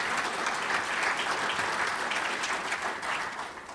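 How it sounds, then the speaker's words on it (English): A crowd at a broadband summit applauding steadily, dense clapping that holds at full strength before tapering slightly at the end. "give these guys a round of applause"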